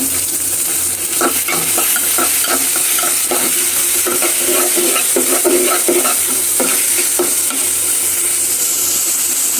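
Onion, chili, peas and ginger-garlic paste fry in a pan, a loud steady sizzle broken by repeated scraping strokes of a spoon stirring throughout, with no talk over it.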